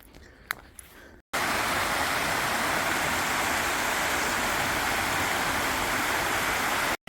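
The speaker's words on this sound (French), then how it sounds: "je suis descendu au bord de la rivière" A river flows in a steady, broadband rush, loud and close, after a brief quieter moment with a few small knocks.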